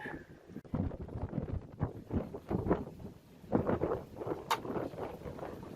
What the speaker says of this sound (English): Not sure if you can hear, but the winds have really picked up.